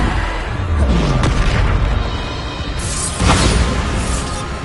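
Bombarda, an explosion spell in Hogwarts Legacy, goes off as two deep, booming blasts with crackling debris, a few seconds apart, over a rumbling game backdrop.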